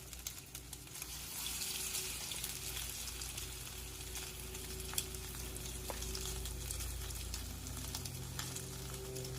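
Food sizzles steadily in a pan, a broad continuous crackling hiss that stays loud and even throughout with no talking.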